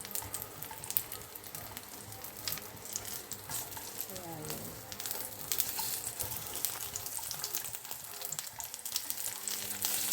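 Food sizzles and crackles steadily in a frying pan at a home dinner, a dense continuous hiss with popping spatters running throughout, close and fairly loud.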